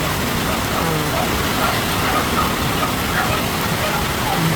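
Steady rain falls continuously and fairly loudly outdoors, a dense even hiss with no breaks.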